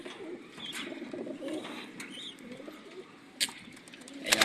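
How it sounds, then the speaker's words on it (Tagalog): Pigeons coo softly in a loft among a blue bar and recessive red birds, low murmuring calls running steadily throughout with a few brief sharper sounds near the end. "Yan ang aking mga ibon."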